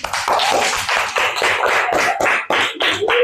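Classroom clapping for a student group, a quick run of sharp, close, fairly loud hand claps in an irregular rhythm from a small group of children.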